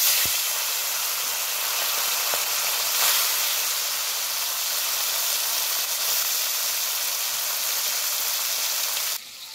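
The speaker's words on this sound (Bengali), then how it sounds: "তেলটা দেখো একদম ধোঁয়া ওঠা অবধি গরম করে নিয়েছি। এবার দিয়ে দিচ্ছি পরিষ্কার করে রাখা মাছ।" Small chuno fish hit oil heated until smoking, setting off a loud, unbroken hissing sizzle up close that holds steady before dropping away sharply at the very end.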